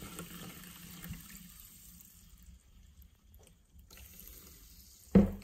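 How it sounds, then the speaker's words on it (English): Sevan sparkling mineral water from Armenia is poured into a small test cup, a soft trickle and fizz that fades, then a couple of louder clinks and splashes at the end. "Let's pour some water in."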